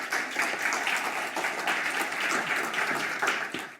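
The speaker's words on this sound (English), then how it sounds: "We're going to give you a round of applause, Aisling, for getting here." Audience applause at a medical lecture on enhanced recovery after cardiac surgery, a steady wash of clapping from many hands held at an even level for several seconds.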